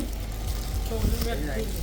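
Close, steady sizzle of banana fritters frying in hot oil, a continuous crackling hiss with a brief louder bubbling burst midway.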